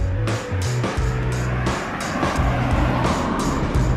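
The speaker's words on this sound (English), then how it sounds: "There's a car coming." A car passes along a street, a loud engine drone that swells and fades over several seconds, with tyre noise and changing engine tones.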